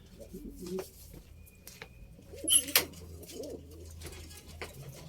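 Pigeons coo in a loft in several low, throaty phrases, close by, with a brief burst of wing flapping in the middle and quiet background noise.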